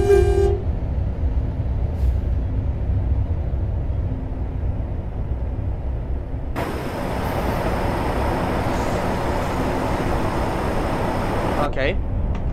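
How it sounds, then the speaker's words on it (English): A train rolls past on the tracks in the American Truck Simulator video game, a steady loud rumble under which a horn toots, with a brighter clattering stretch midway. "Oh, and there's a train, speaking of which."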